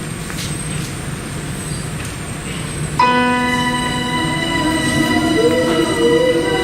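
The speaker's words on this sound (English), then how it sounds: "Start the train! Start the train!" A loud steady rumbling of a train, then an abrupt shift to a heavier mechanical drone with whining tones as it gets under way, close and continuous.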